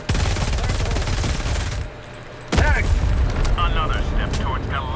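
Rapid gunfire and booming blasts from the video game Helldivers 2 rattle continuously, loud and close, pausing briefly before resuming with explosions and bursts, with a voice talking at times.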